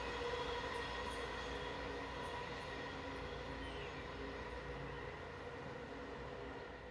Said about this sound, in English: Amtrak southbound Palmetto service, train 89.